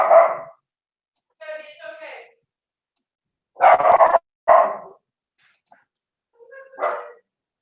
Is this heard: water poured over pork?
no